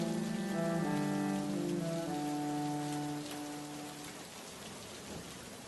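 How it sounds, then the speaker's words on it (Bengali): Heavy cartoon rain falls outside in a steady, dense patter with a low rumble of thunder, while a held musical tone fades out over the first few seconds. "বাইরে যা বৃষ্টি হচ্ছে"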